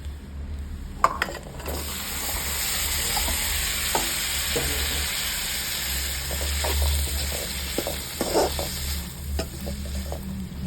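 Garlic with parboiled broccoli and corn stir-frying in a pan: a sustained sizzle broken by sharp scraping stirs and clatters of the spatula, close and steady, no voices.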